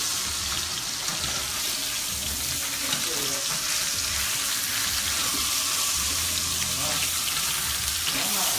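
A T-bone steak sizzles in clarified butter in a hot pan, a steady, dense frying hiss with light crackle that runs unbroken for the whole stretch, close and fairly loud with no voices.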